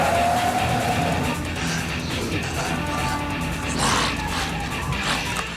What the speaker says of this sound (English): And then they have a car chase.